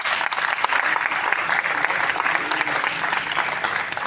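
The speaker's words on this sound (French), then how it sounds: "Est-ce qu'on peut l'applaudir, s'il vous plaît?" A festival audience applauds its director, Madame Lauriat Bikuta, at the 20th-anniversary evening of Festival Tuseo. The clapping is dense, steady and sustained throughout, a full room clapping together.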